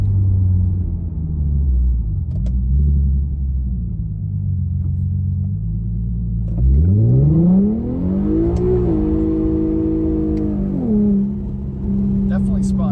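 An Infiniti Q50 launches from a standstill, its engine revving up through rising, rumbling acceleration with a gear change, loud and close, while people talk over it.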